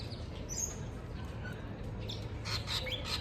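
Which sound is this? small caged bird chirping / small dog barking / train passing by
small caged bird chirping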